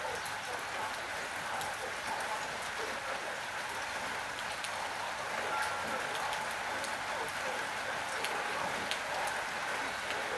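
Steady rain falls on trees and flowers, a dense continuous patter with scattered brighter drops hitting surfaces nearby, even and unbroken throughout with no voices.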